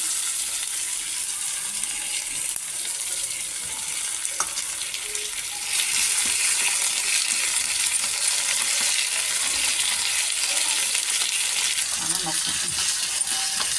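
Cashews, pepper, curry leaves and ginger fry in ghee for Madras pongal, making a steady close sizzle with occasional scrapes and clinks of a stirring spoon against the pan, and no talking.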